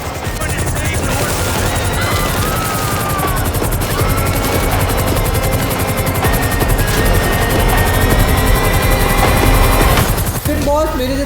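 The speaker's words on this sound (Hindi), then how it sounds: "इस हेलीकॉप्टर में बैठ कर यहाँ से निकलता हूँ" Helicopter in the video game GTA V, its rotor chop running steadily throughout alongside bursts of machine-gun fire and gunshots, loud and continuous until a brief break near the end.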